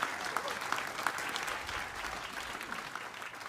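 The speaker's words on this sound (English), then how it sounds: "and so give them an applause" A congregation applauds veterans during a church sermon service, a moderate, even wash of clapping that holds steady from start to end.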